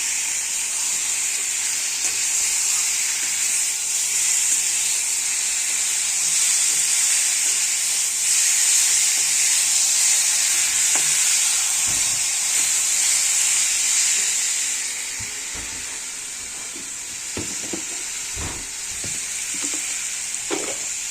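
A fried spice mix for hog plum pickle sizzles loudly in a hot pan, a steady bright hiss that eases later while stirring clinks and scrapes grow more frequent.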